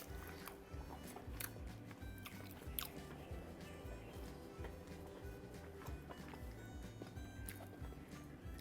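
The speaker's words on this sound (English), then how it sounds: "Let me just take a big bite out of this." Close, wet biting and chewing on braised fish in ginger and oyster sauce, a steady soft mastication under low background noise with no speech.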